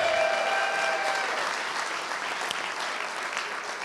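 Dinner crowd at a sports awards banquet gives a round of applause, dense clapping that starts strong and eases gradually, with a faint whistle early on.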